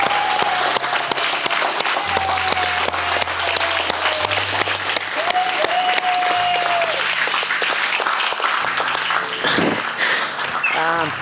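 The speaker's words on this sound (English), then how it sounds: "Clap for Izzy." Loud, sustained applause from a crowd at a Brazilian jiu-jitsu black belt promotion fills the whole stretch, dense clapping with a few cheers and whistles mixed in.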